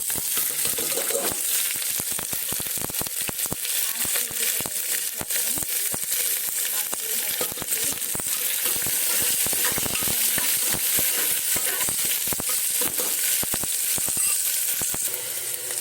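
Two medium onions fry with whole spices in hot oil for Kathiyawadi-style tempered khichdi, giving a continuous loud sizzle broken by frequent sharp crackles and pops, with no talking.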